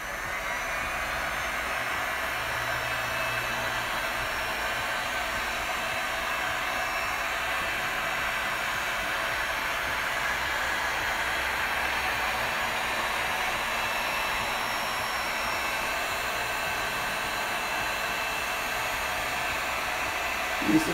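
Heat gun with a focusing nozzle blowing on resin at a medium setting, a steady loud airy whoosh that holds unchanged for the whole stretch with no voices.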